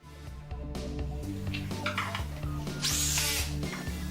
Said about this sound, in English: using your electric drill and a screw and a washer